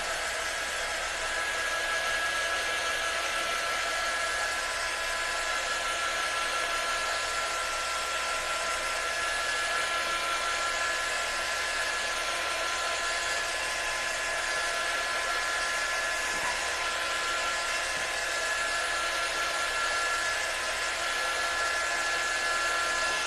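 A hair dryer blows steadily on a DIY beach-inspired home décor piece, a constant loud whoosh with a faint whine that runs nearly unbroken throughout.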